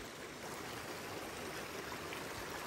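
A small creek with native brook trout runs steadily and close by, a constant broad rushing trickle with no pauses and no voices.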